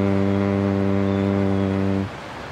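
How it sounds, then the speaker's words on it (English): A steady closed-mouth om hum, bee breath, held loud and even for about two seconds before stopping abruptly, leaving faint background noise. "we'll do an om sound, but with our mouth closed. So it's a humming sound."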